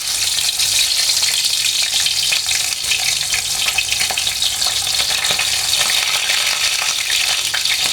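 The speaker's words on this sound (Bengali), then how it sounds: "আমি এখন মাছগুলো একে একে ভেজে নেব।" Tangra fish sizzle in hot mustard oil in a pan, a loud, continuous close-up frying crackle with steady bubbling and spitting throughout.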